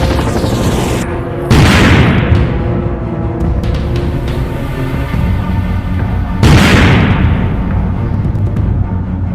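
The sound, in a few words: gunshot in animated horror story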